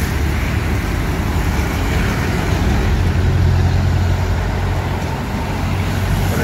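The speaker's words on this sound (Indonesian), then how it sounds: "Ini kendaraan buru-buru mau ke kantor." Dense morning traffic near a signalised crossroads, a continuous loud roar of cars, trucks and buses with a low engine rumble that swells slightly mid-way, with no voices.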